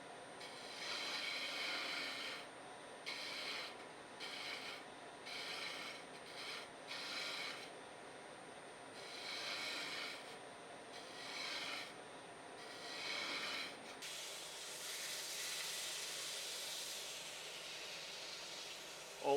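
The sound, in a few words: skew chisel smoothing wooden handle on lathe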